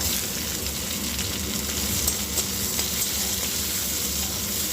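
Chopped onion frying in a little oil tempered with whole cumin and green chillies, a steady close crackling sizzle that fills the whole stretch without a break.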